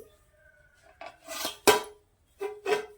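A metal cake pan for a vanilla sponge cake being set down inside a larger hot pot for stovetop baking: close, loud metallic scrapes and one sharp ringing clank, then two more grinding scrapes against the pot, with no talking.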